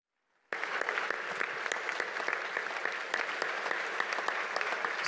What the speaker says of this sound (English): please give a round of applause for my wife